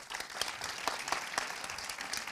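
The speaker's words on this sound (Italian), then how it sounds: "Facciamo subito un applauso a Giovanna Vessia." An audience at a documentary film festival awards ceremony applauds a sign language interpreter: sustained dense clapping from a crowd, moderately distant, with a few sharper individual claps standing out.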